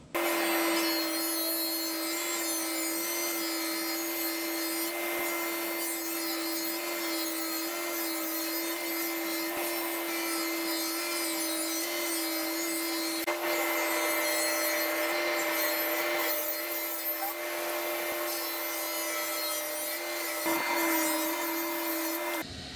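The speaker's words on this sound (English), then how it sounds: "we're running them off through the planer to get rid of the saw marks and dial them into the final dimension." Wooden boards for shaker-style cabinet doors feed through a thickness planer, giving a loud, continuous machine whine with a rough shaving and cutting noise that swells slightly as each board passes. No one speaks.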